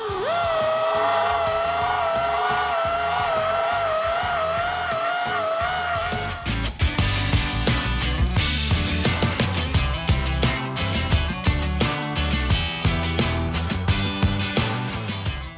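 A power tool fitted with a Scotch-Brite belt works over welds on a bench-clamped repair panel, running in a steady whine before switching to a rough, pulsing grind with rapid irregular bursts.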